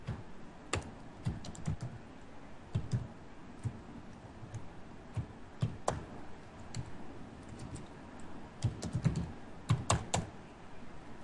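Rapid, uneven keystrokes on a computer keyboard while a short COBOL program is entered, with clusters of sharp clicks broken by brief pauses; close and clear, with no talking.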